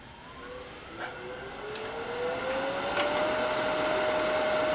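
A wood lathe spins a small turned ornament while a spindle gouge hollows underneath its skirt, giving a steady whirring hum with a rising tonal whine as the cut continues, loud and close with no talk.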